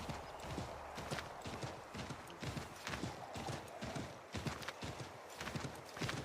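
Horse hooves in the video game Assassin's Creed 3 clop in a steady, quick rhythm, each hoofbeat crisp and close as the animal moves along.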